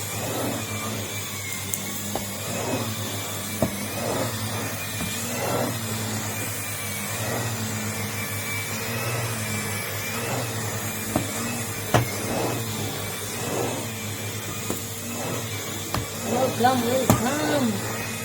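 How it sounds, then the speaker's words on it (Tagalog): A Numatic Henry vacuum cleaner runs steadily throughout, a continuous motor whine with a few small bumps and knocks, heard indoors with no talking. "Just listen to the vacuum. No, I'm using pneumatic Henry vacuum."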